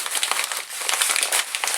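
Plastic packaging of a Bible journaling kit being cut open with scissors, giving a continuous close crinkling and crackling with no pause and no speech.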